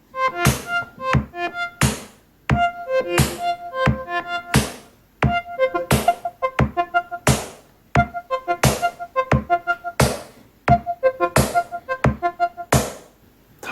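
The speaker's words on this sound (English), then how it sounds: "And then I will add also the built-in reverb to make it more like a pad." A Korg Volca Keys synthesizer plays a pad patch through its built-in reverb, with rhythmic repeated chord stabs and sharp percussive hits over a steady pulse, each note trailing into a reverberant decay.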